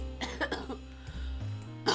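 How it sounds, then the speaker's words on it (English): A few short coughs and throat clearing up close, over low background noise from a Ghost Trick game, with a brief sharper sound at the end. "Sorry about the, cough"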